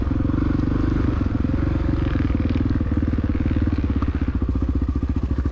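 Honda XR600R motorcycle ridden off-road in a cross-country race through woods, its engine droning loud and close in a steady high gear with a throbbing pulse that quickens toward the end.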